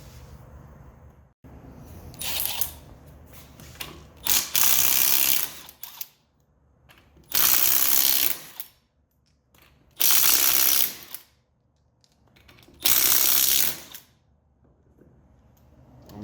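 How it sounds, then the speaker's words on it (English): Ratchet with a 19 mm socket working a wheel off a 2020 Can-Am Maverick X3 X RC Turbo RR, heard as several loud bursts of rapid clicking, each lasting one to two seconds, with short quiet pauses between them. "So now I'm going to grab my 19 mil, and we will pull off the wheel."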